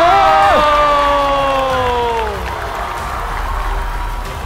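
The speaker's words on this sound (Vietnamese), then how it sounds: "Và một tràng pháo tay nồng nhiệt cho Đăng Quân" A crowd at a televised Vietnamese dance-battle show applauds and cheers a three-time dance champion. Loud, wide clapping is topped at first by a rising then falling whoop, then settles into a steady roar.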